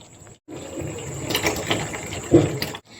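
Dry pasta drops into a pot of boiling water on the stove, making close, brief clattering and splashing bursts over a soft bubbling hiss, with no voices.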